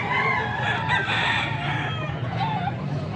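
A year-old fighting-cock stag crows loudly and close, its drawn-out calls rising over a constant din of other roosters and fowl clucking in the background.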